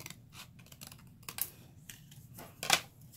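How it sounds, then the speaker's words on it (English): Scissors snip through paper in a quick series of crisp, close cuts, with a louder rasping slice near the end. "I'm going to just slide my scissors in there. And I'm going to cut straight down."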